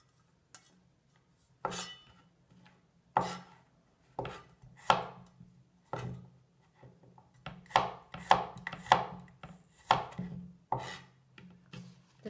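A knife chops vegetables on a board for a torn noodle stir fry, with about a dozen crisp, separate cuts at an uneven pace, close and fairly loud over a faint low hum.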